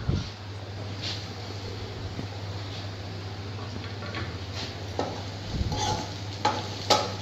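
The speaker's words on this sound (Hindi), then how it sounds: "ये हमारा प्याज देखिए कितनी अच्छी तरह से भून चुका है।" Onion and green chilies sauté in a pan for a spiced pointed gourd curry, a soft steady sizzle with occasional stirring scrapes and clinks.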